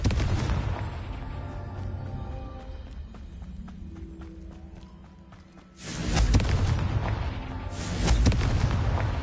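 A Confringo spell explosion in Hogwarts Legacy, with a loud blast near the six-second mark, then another heavy burst, heard over an ongoing game score and rumbling effects.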